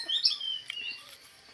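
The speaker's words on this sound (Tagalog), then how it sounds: "May ibon oh." A small bird chirps briefly in a grape vineyard: a few thin, high, quick tweets, fairly close and clear against quiet outdoor air, with no talk.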